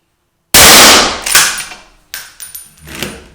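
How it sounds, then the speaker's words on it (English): A single cartridge dropped into a Mauser M25 straight-pull rifle: one loud, sharp metallic clang up close, followed by a few smaller clicks and knocks of metal parts. "you can load a single round, just drop it in, straight in there"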